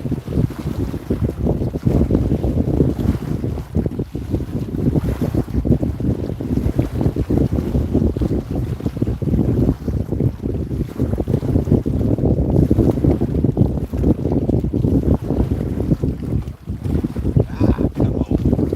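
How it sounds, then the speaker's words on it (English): Strong wind gusting outdoors on a fishing trip, a loud continuous roar and buffeting against the microphone with low rumbling throughout, no pauses, steady from start to end. "Boy, that wind is something else."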